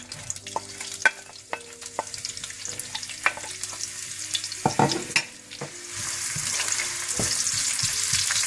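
Onions fry in half a cup of desi ghee for chicken biryani, with a close sizzle and scattered clinks and scrapes of a spoon, then a louder, denser hiss of frying in the last few seconds.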